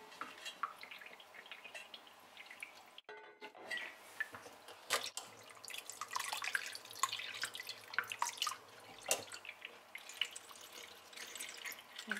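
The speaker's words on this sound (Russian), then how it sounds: "Нам надо ее промыть теперь в холодной воде." Pike roe being rinsed in cold water in a gauze-lined colander, with soft dripping and trickling water, irregular splashes and small clinks close by and quiet, no talk.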